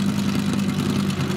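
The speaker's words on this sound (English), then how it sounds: "sounds a bit like a misfire" A race car's engine runs with an uneven, rough rumble suggesting a misfire or dropped cylinder, heard steady and close for a moment in the pit bay at the Bathurst 12 Hour endurance race.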